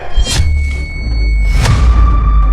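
Two heavy thuds land about a second apart, close and loud, with a dull low rumble between them and no voices.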